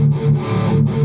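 Distorted electric guitar through a Boss Katana 100 mk2 amplifier's direct out rings in a thick, sustained chord with a slight pulsing wobble, close and loud, with no talking.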